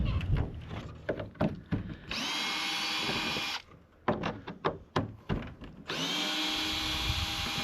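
A power drill drives screws through a used corrugated tin roofing sheet on an outhouse roof, with several loud whirring bursts separated by short clanks and pauses, close up and with no talking.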